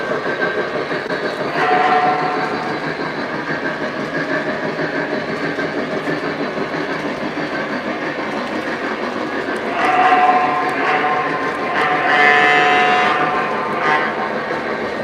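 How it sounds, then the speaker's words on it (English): An O scale model train, a GP7 locomotive pulling an ore train on a home layout, gives a steady loud mechanical hum and rolling rattle with a few brief high whistle-like tones rising over it. "So the GP7 is pulling the ore train since it was already on the track."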